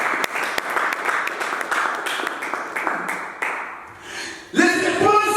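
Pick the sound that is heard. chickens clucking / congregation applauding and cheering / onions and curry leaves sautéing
congregation applauding and cheering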